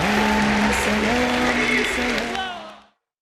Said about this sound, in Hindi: आपकी भरपूर तालियों में अपनी सीट से उठकर डॉक्टर जाकिर नाइक साहब का इस्तकबाल कीजिए